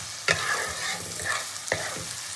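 Onions fry in a pan with a continuous close sizzle, broken by a couple of sharp stirring scrapes and clacks from a utensil.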